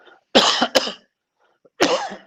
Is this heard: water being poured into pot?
no